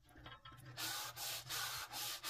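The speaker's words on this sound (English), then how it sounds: "You might as well just lay the sandpaper on and just rub it back and forth" Steady back-and-forth sanding of a guitar's wooden fretboard with sandpaper, several long rasping strokes in a regular rhythm, close up.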